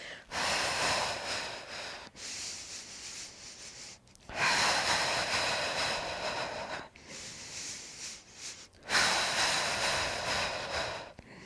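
Deep breaths during a guided breathing exercise, with three long, strong inhale-exhale cycles separated by short pauses, each breath lasting about two seconds, close and prominent with no talking.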